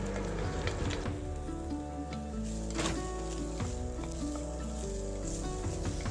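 Mushrooms searing in beef tallow for a beef stew, a continuous close sizzle and crackle with occasional stirring, loud and steady, with no talk.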